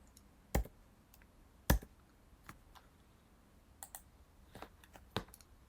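A password being typed on a computer keyboard, a handful of sparse, close key clicks in a quiet room, two sharper louder taps near the start and a quicker cluster toward the end.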